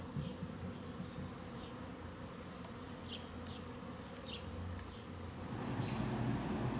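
Honey bees buzz around a hive during a late-July inspection on an overcast, rainy day, a steady close drone with individual bees zipping past and no talking.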